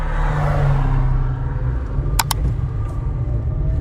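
Steady low traffic rumble from heavy trucks on a busy road in Olifantshoek, continuous and fairly close, with a couple of brief high clicks near the middle and no talking.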